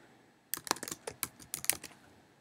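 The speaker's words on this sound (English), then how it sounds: "I just typed in favorite" Quick typing on a computer keyboard, a short burst of crisp, close key clicks in an uneven rhythm lasting under two seconds.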